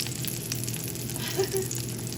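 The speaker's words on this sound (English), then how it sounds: "frying the onion, bacon grease" A steady, crackling sizzle of onions frying in hot bacon grease, close and continuous with no talking.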